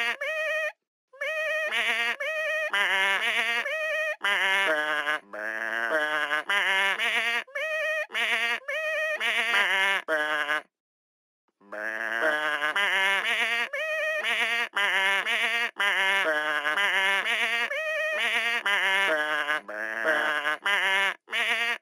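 Cartoon sheep bleating in a Hey Duggee music game, a string of loud, clear, tuneful bleats following one another, with a couple of short silent gaps between phrases.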